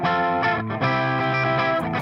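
Distorted rock rhythm guitars with light chorus and reverb, playing sustained power chords with a couple of brief gaps, loud and dense throughout with no talking.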